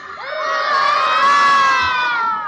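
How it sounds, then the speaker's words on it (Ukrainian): A crowd of children shouts hooray together at an official New Year tree opening in Chervonohrad, a loud sustained collective cheer of many young voices rising and fading over a couple of seconds. "А голосно кричати ура!"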